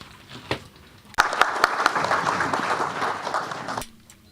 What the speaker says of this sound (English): So, round of applause for the 5 panelists.